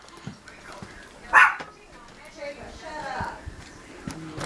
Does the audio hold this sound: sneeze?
no